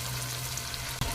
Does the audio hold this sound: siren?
no